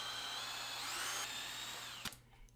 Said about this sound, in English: use the dimple created by the Forstner bit to locate the centre of the hole and drill a through hole for some threaded rod